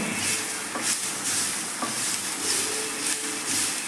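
Chopped garlic and chilies fry over low heat in an iron pan, giving a steady close crackling sizzle with a few soft stirring scrapes and taps.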